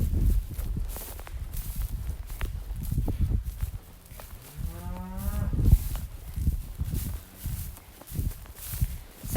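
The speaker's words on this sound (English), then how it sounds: "This is the Pepsi cow, and this is her Simmental bull calf" A cow and her Simmental bull calf on a farm, with one clear drawn-out moo midway and lower grunting calls around it, alongside shuffling hoof steps and background farm noise at close range.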